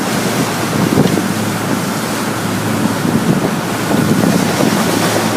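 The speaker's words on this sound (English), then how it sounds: "the engines are too loud for us to really have a conversation anymore" Loud, steady roar of RIB boat engines over rushing wind and water on a river through a city, continuous and close, with buffeting noise throughout and no clear voices.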